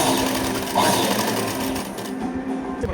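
Close, loud, continuous rattling whir of a sewing machine running a line of stitching on a princess-cut blouse, holding an even pace for the full stretch.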